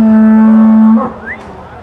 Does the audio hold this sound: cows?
yes